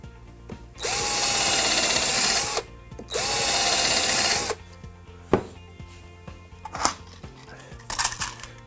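A power drill drives screws into a pallet-wood coffee table in two loud, close bursts of steady whirring, followed by scattered clatters and knocks of handling the wood and tools.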